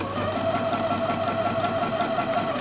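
A sewing machine runs in a steady, rapid mechanical whir with a constant motor hum as it backstitches a couple of stitches in reverse to lock a seam.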